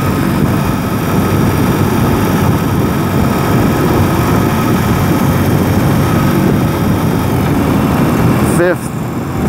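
A 2021 BMW R 18 cruiser motorcycle rolls along in fourth gear, its engine giving a steady low rumble blended with constant wind roar and no gaps.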